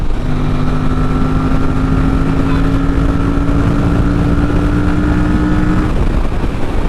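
A 150 cc motorcycle engine revving hard toward 7,500 rpm on an open highway ride, a steady loud drone holding high pitch for several seconds before dropping off, with wind rush over the microphone.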